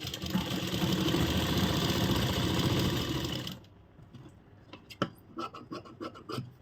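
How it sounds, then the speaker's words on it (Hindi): Sewing machine stitching a strip of fabric for a Banarasi party-wear suit, with a loud, close, steady whirring run that stops abruptly, followed by scattered clicks and handling noises. "सिलाई शुरू कर देंगे।"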